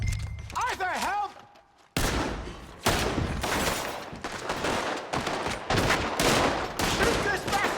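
Gunfire from a Red Dead Redemption 2 shootout, with a burst of loud overlapping shots that keeps rolling as a dense fusillade. Voices shout over the shooting.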